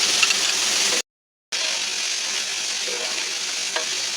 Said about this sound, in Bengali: আমরা এটা একটু ভাজা ভাজা করবো।